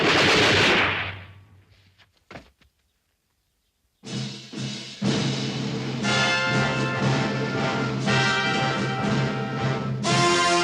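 A volley of rifle fire from a line of soldiers on command in a 1860s-70s Western frontier setting, a sharp burst followed after a pause by loud, sustained crackling and booming shots with music-like ringing.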